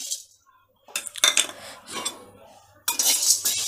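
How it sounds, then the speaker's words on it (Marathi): Sago pearls being dry-roasted in a pan while making Malvani vada flour, with bursts of metal spatula scraping and clinking against the pan separated by brief pauses. "आता आपण साबुदाणे भाजून घेऊयात."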